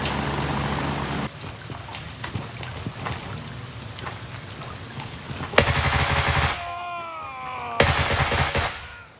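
Gunfire in the Gray Zone Warfare video game: scattered distant shots under rain-like background noise, then two loud, close bursts of automatic fire with sharp cutoffs and ringing tails.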